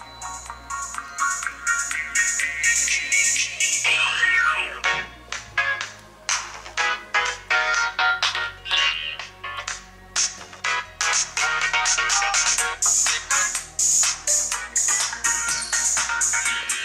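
Ringtone music from the speaker of an LG GM360 phone, a bright, rhythmic melody of quick repeated tones playing continuously and fairly loud for many seconds, with no speech.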